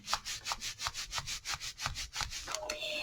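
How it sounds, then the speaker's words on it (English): A paper pop-up card being rubbed down by hand gives a quick, steady run of about a dozen close, scratchy strokes, ending in a brief papery rustle. "Bring it forward and rub it down."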